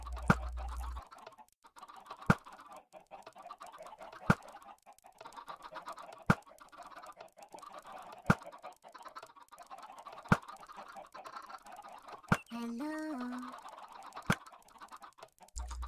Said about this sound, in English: there are chickens running around